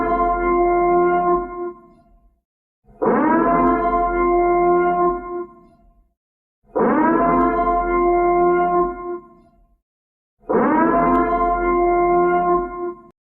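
A wailing siren sounds four times in long, loud rising-and-falling blasts separated by short silences, signalling the start of a talk show.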